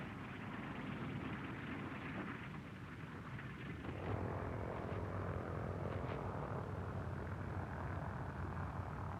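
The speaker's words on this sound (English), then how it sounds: "B-17 Air Force drones land at Inuiatok." B-17 Air Force drone aircraft landing, a steady, dense roar of propeller engines that swells slightly partway through and holds to the end, with no voices.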